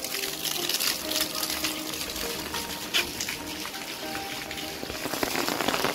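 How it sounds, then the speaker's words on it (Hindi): Very heavy rain pours outdoors during a thunderstorm in Pakistan, drumming on an umbrella and nearby surfaces in a dense, constant roar with scattered louder drops and splashes. No one speaks. "बहुत तेज बारिश है।"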